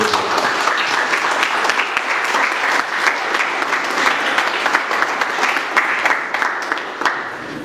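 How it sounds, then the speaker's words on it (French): At a youth orientation day, an audience gives the organising team a long round of applause, with steady dense clapping and sharper individual claps rising at times before it eases off. "j'aimerais que vous les applaudissiez parce qu'ils font du très très bien"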